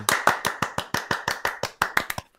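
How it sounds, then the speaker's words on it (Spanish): Sharp, separate handclaps from a single person or a small group, about a dozen distinct close claps in a quick irregular rhythm, loud and dry with no talk. "Un aplauso para Juan Carlos de Convertian."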